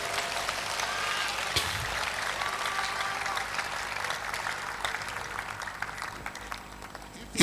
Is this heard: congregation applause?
yes